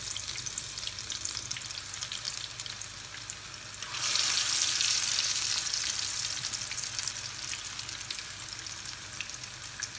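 Greek courgette balls (kolokythokeftedes) fry in a pan with a steady, close hiss of sizzling oil. The sizzle swells louder partway through, then eases back to a constant crackle, with no voices.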